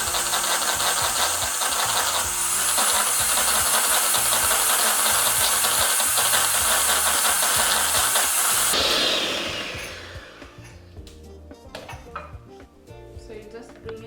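An electric mixer beats butter and margarine for buttercream icing: a loud, steady high whine with a rough motor drone for about nine seconds, then the motor cuts and quieter clinking and scraping follow.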